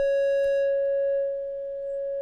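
A synthesizer triangle wave with its frequency turned all the way up holds one steady, clear tone with a faint buzzy edge, sustained alone without any voice.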